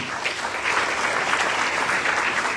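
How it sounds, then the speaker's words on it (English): A large audience at a Republican Board of Education candidates event in Carroll County claps steadily and loudly, dense sustained applause filling the whole stretch with no speech over it. "let's give them one last round of applause"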